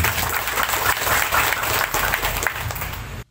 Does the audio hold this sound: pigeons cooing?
no